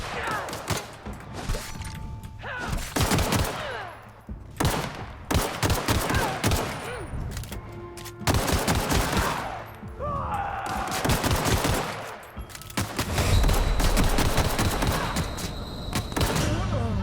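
Rapid bursts of gunfire from the video game The Outer Worlds crack out loud and close, in dense volleys that pause briefly and then resume, with a heavier sustained barrage near the end.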